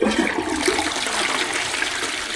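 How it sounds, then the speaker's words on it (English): A toilet flushing, with a steady close rush and gurgle of water filling the bowl throughout, no voices over it. "Another flush."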